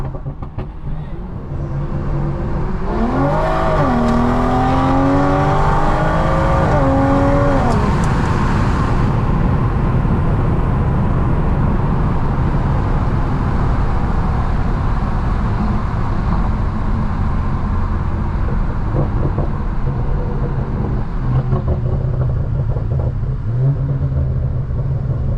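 A Stage 2 BMW M340i with a new downpipe accelerates hard, its engine climbing through rising revs and a gear change, then settling into a loud, steady road rumble from inside the car.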